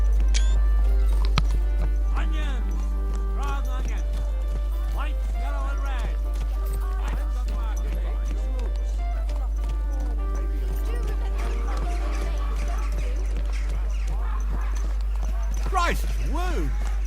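Horse hooves clip-clop at a steady walking rhythm in the video game Kingdom Come: Deliverance 2, close and continuous, with people talking over them and a whinny near the end.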